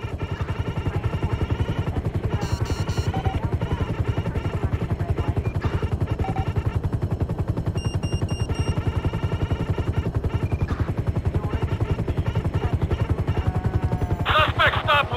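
A police helicopter in the GTA 5 video game thumps with a steady, rhythmic rotor chop that continues throughout, loud and close, with scattered sharper bursts layered on top.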